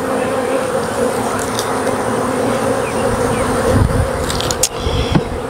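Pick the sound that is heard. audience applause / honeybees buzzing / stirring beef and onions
honeybees buzzing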